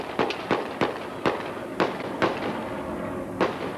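Gunshots ring out during a police shootout at the end of a chase in Rancho Cordova, sharp loud cracks spaced irregularly, about eight in a row over steady background noise.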